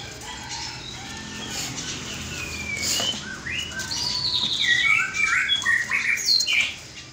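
Caged birds at a bird market squawking and chirping, several shrill calls rising and overlapping against a steady background din, growing louder toward the end.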